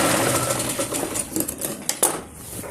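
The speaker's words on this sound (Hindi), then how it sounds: "फिर हम यहाँ से सिलाई लगाएंगे। इस तरीके से सिलाई हम नीचे तक लगा देंगे" Sewing machine stitching a seam on a Patiala salwar, a steady fast mechanical whirr with rhythmic needle clatter, close and loud, slowing briefly near the end.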